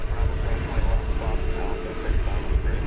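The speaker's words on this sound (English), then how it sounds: "Flight 2298 to Portland, Oregon is next to take off. It is an Airbus A321 Neo." An Airbus A321neo takes off at DFW Airport, its rumbling jet engine roar running steadily beneath a speaking voice.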